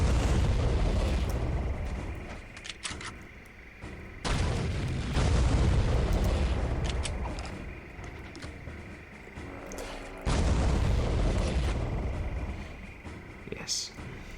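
Rocket launcher explosions in a video game: two heavy, booming blasts several seconds apart, each followed by a long rumbling decay, loud and close.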